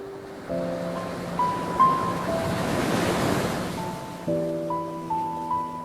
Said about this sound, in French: Imagine maintenant le bord de l'océan